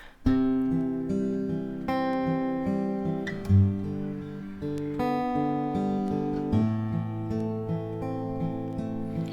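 Guitar fingerpicking on the inner strings, a steady repeating plucked pattern with a warm, mellow tone, played alone and close.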